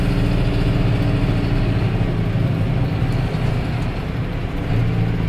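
A 2004 John Deere 6320 Premium tractor approaches, its engine rumbling steadily with a deep, low drone that holds an even level the whole time, fairly loud and with no voices.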